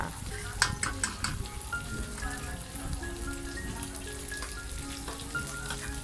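Eggs are stir-fried in a hot pan for Thai fried rice, giving a constant sizzle with sharp scraping and clinking strokes of the spatula at the start and faint tonal background sounds throughout.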